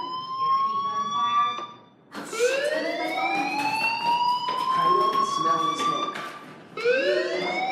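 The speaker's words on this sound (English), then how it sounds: "Hey, do you hear that fire alarm?" Electronic fire alarm in the Life Is Strange video game, a loud rising-and-falling wail that cycles continuously, cutting out briefly near the middle before resuming, with some background noise underneath.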